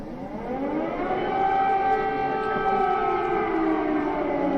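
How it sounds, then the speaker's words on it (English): Air raid sirens wail steadily over Kyiv, their tones rising and bending in overlapping layers, loud and continuous with no voices. "Air raid sirens."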